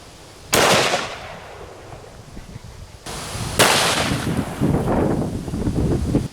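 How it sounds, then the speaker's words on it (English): Two loud, sharp gunshots about three seconds apart from a Magnum Research BFR revolver in .450 Marlin with a 10-inch barrel, firing Buffalo Bore 500-grain full metal jacket rounds into body armor outdoors, each blast trailing into wind noise. "We're going to shoot this body armor with some buffalo bore 500 grain full metal"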